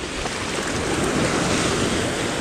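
Ocean waves wash over a beach in a broad, continuous roar of surf mixed with wind buffeting the microphone, loud and close with no voices.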